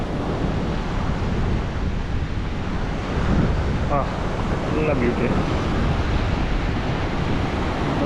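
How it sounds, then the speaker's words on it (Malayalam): Monsoon sea waves, not very rough, wash onto the shore at Kollam in a continuous loud roar mixed with wind buffeting. A voice briefly speaks over the surf. "കടൽ മൺസൂണാണ്. കടൽ അത്ര പ്രക്ഷുബ്ധമല്ല."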